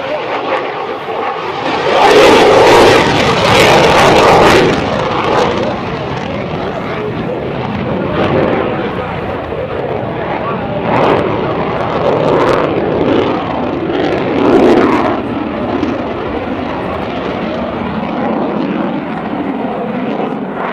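A US Navy F/A-18C Legacy Hornet tactical demo jet repositions along the show line at a Florida airshow, its engine roar loud and sustained with swelling passes, while an announcer talks over it.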